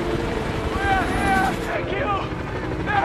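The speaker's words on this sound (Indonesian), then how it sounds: "terdengar suara helikopter menghampiri" A helicopter's rotor chops and drones steadily, fairly close, while a voice speaks over it.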